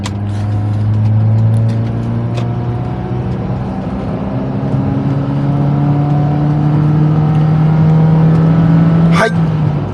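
A used camper van accelerates at full throttle from 40 to 80 km/h while merging from a service area. The engine drone rises steadily in pitch through one long pull, with a brief sharp knock near the end.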